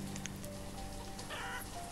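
Chickens cluck in the video game Banished, a few soft clucks set against a steady, dense ambient game background.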